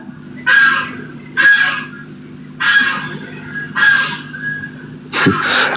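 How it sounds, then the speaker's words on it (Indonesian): A goose honks repeatedly in a park at night, five loud nasal calls spaced about a second apart, close and clear over a low steady hum, followed by a sharp click. "Angsa di taman belum tidur gini hari itu."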